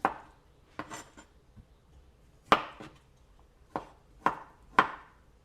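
A knife cuts boiled garden beets into bite-size pieces on a board, giving a few sharp, separate chops with short gaps between them, close and fairly quiet.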